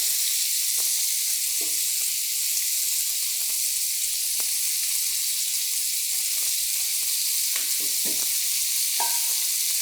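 Heavy cream poured over melted butter in a hot pan sizzles steadily with a broad, close hiss, broken by a few soft clicks and stirring taps throughout.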